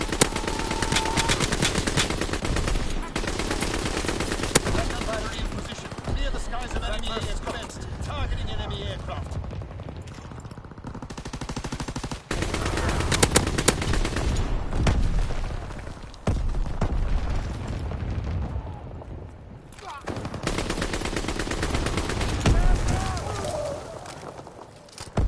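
Light machine gun fire in a first-person shooter game: long rapid bursts of loud automatic shots with short gaps, a voice talking over parts of it.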